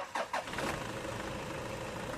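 A Toyota Innova engine with about 268,000 km, freshly fitted with a new timing belt, cranks briefly and catches, then settles into a steady, loud idle that fills the rest of the clip with no talking.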